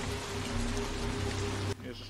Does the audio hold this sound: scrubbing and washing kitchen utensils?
no